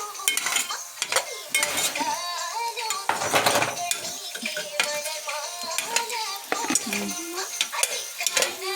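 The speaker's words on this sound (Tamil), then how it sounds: "நல்லா கொஞ்சம் ப்ரௌனிஷாக ஃப்ரை ஆகட்டும்." Paneer frying in a pan while it is stirred, with a metal spoon scraping and clinking against the pan in uneven bursts over a soft sizzle, and voices talking nearby.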